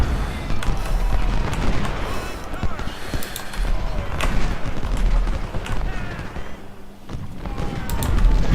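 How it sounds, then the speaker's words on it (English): Artillery fire in the Civil War strategy game Ultimate General: Civil War, dull booms and thuds recurring over a continuous battle din, with a voice talking over it. "More artillery."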